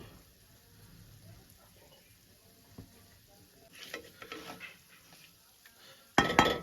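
Leftover rice with turmeric being stirred in a pan, with soft scraping at first, then louder clinks of a utensil against the pan around the middle and a sharp burst of metal clatter near the end.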